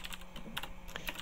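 Quick, light keystrokes on a computer keyboard tap out a brief irregular burst of clicks while code is written in an Unreal Engine C++ tutorial, close and fairly quiet with no talking.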